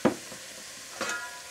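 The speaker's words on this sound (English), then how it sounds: "Let's start frying off my tacos, and I think you just use a little bit of oil in your pan." Tacos frying in a lightly oiled pan give a faint soft sizzle with a couple of brief stirring scrapes, close by and quiet.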